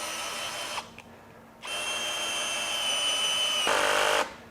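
A Greenworks 24V brushless drill driver on a low speed setting backs out a 4-inch deck screw in several bursts, a close, loud motor whir with short pauses between runs and no talk.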